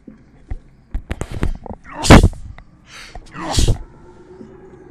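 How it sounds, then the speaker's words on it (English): A person sneezes twice at close range. Each loud, sharp burst comes after quick breathy intakes, with scattered small clicks and movement noises around them. "Sneezing."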